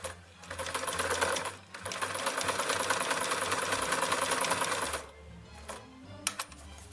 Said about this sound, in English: You move it across to whatever number zigzag you want and you lock it up, and hopefully it zigzags.